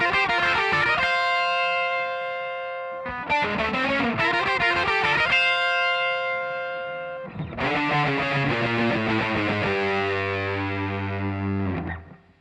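A distorted electric guitar plays angular lead lines from the verse of a song: two bursts of quick notes, a pause, then a longer phrase ending on sustained ringing notes, loud and close with no talking.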